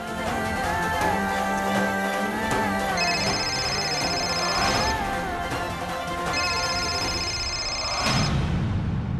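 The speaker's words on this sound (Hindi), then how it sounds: "ये तो गुलाबो को फोन लगा कर दो ना, मैं बात करके पूछती हूँ कि वो कहाँ है।" A telephone rings during a call attempt to reach someone, an electronic ringing tone sounding in repeated bursts over continuous background music in a TV drama scene.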